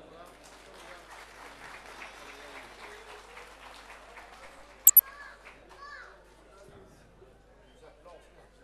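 Modest audience applause at the close of an evening singing gathering in Ribeira Seca, scattered clapping under crowd chatter and children's voices, with two sharp clicks and a quieter tail.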